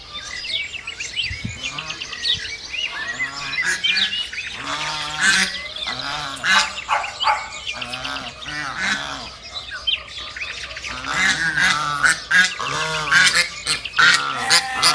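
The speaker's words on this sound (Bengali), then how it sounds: "সাদা হাঁস দেখতে সুন্দরই লাগে" White ducks on a farm quack and honk continuously, a busy, fairly close flock calling in overlapping bursts. Chirping songbirds can be heard faintly behind them.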